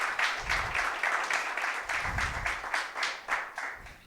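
A church congregation applauds a speaker, soft rhythmic clapping in pulsing waves heard at a distance and fairly quiet, with low murmuring underneath.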